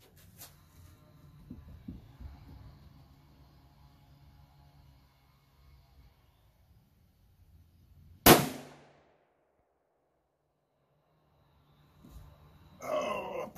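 A single loud, sharp gunshot from a Savage .243 rifle fired over a chronograph, standing out from a quiet, low-rumbling outdoor background before a brief decaying tail.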